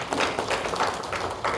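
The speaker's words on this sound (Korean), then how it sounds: "우리 하나님 앞에 영광의 박수 올려드리겠습니다" A church congregation at a Sunday afternoon service claps together in a sustained round of applause, with rhythmic surges of fairly loud hand clapping filling the room.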